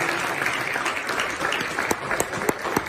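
A church congregation claps together during a sermon, with steady dense applause that stays loud and even and carries a few sharper individual claps near the end.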